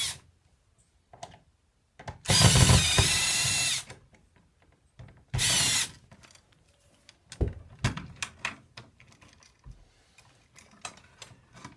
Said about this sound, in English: Go ahead and pull the screws out of our switch.